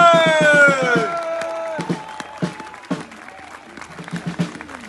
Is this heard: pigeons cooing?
no